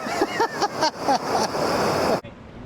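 A river raft goes over a weir amid rushing, churning water, with excited shouts and whoops over the roar until it cuts off abruptly near the end.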